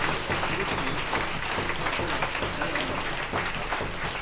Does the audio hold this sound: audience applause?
yes